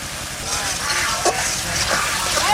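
Chopped tomato hitting a hot frying pan of spiced fish curry base: a loud, close sizzle with stirring scrapes throughout, continuous and busy.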